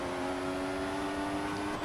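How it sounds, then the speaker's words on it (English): Formula One car in the F1 2014 racing game sliding sideways in a drift, its engine holding a steady high whine with a sustained buzzing tone, loud and continuous for the whole short stretch. "Just drifting the car."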